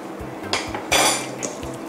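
Pork marinade mixed by hand in a bowl for Thai moo ping, with close, wet squishing and slapping plus a couple of light knocks against the bowl over a steady low hum.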